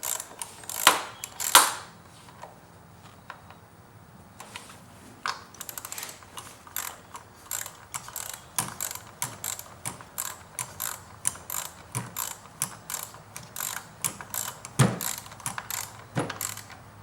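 A ratchet clicks in long runs of quick, dry ticks as it turns a spark plug on a V6 Jeep Grand Cherokee WK, working in short back-and-forth strokes with a few louder knocks, close and alone.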